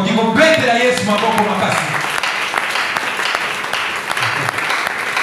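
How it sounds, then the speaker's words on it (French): A church congregation applauding during a sermon, a broad steady wash of clapping that carries on for several seconds, with a voice over the clapping at the start. "Est-ce qu'on peut acclamer le Dieu?"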